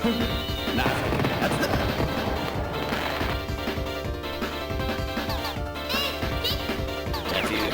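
Enemy explosions in the 1996 ADK/SNK arcade shooter Twinkle Star Sprites, a dense run of crashing bursts that bleeds into busy game music and effects, steady and loud throughout.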